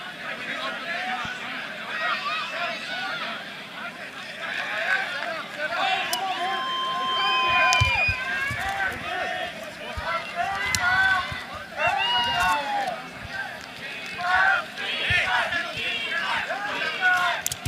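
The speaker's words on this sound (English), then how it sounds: "Got the crowd chanting on their feet." Spectators at a rugby league national championship match call out together in a loose, rising crowd chant, with an announcer speaking over the noise.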